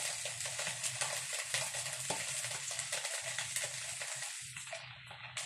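Peanuts are stirred into a beef dish in a hot pan, giving a steady soft sizzle with scraping and stirring strokes and small crunchy rattles, close and fairly quiet, with no talking.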